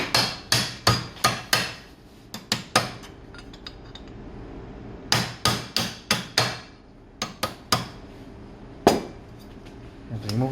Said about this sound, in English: You need to use a bench vise, grip, and a hammer